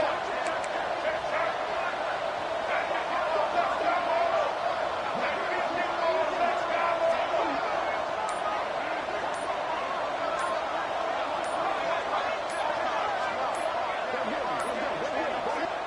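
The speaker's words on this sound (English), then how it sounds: "here comes the crowd noise" Crowd noise at a football game, a steady roar of a stadium crowd with scattered shouts and yips, running under continuous play-by-play commentary.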